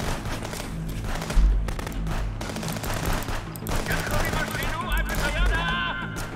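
Sustained gunfire in the video game Contraband Police, with dense overlapping shots and heavy booming impacts across a loud firefight, set under constant game noise and someone talking over it.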